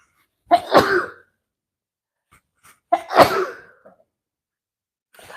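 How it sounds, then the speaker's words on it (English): A person sneezes twice, close and loud, each sharp burst separated by a few seconds of silence. "Oh, I'm going to sneeze."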